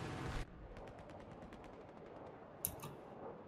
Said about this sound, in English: The Shilka is shooting me.